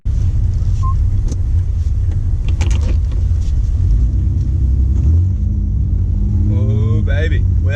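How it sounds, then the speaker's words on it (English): A Ford EF Falcon drives after a misfire repair. Its engine gives a steady, loud low rumble throughout, with road noise, and a voice comes in near the end. "But we'll go take it for a drive and see if we've nailed it completely."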